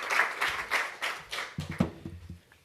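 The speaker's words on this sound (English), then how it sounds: "Let's give a round of applause for Iavor." A short round of audience clapping after a presentation at a policy seminar, a few overlapping claps fading quickly, with a voice briefly heard near the end.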